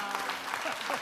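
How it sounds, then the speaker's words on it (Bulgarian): Brief burst of audience clapping during a television comedy show sketch, moderately loud and continuous for about a second. "Аплодисменти."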